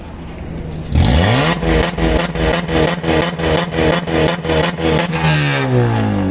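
A Honda Civic car engine starts and revs repeatedly in quick pulses, loud and close, then settles back toward idle at the end.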